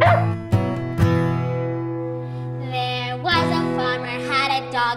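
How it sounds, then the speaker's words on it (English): A cartoon dog barks and yips in short bursts within a sung nursery rhyme about a farmer's dog, sitting close over sustained musical backing and singing voices. "There was a farmer had a dog and Bingo was his name"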